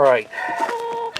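Backyard chickens clucking near a goat water trough, a short burst of tonal squawks and clucks, close and fairly loud.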